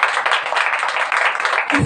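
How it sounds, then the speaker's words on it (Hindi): An audience at a Hindi-language Christian sermon claps loudly and continuously, a steady dense wash of applause lasting the whole moment. "जोर से ताली करो।"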